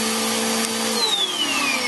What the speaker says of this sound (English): You'll notice the vacuum cleaner is not especially loud.